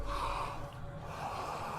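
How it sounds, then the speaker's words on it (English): Heavy, raspy breathing comes from a severed head carried by the heroine in Hellblade: Senua's Sacrifice, a close gasping inhale and snorting exhale set against a low, droning game ambience. "Oh, it's breathing."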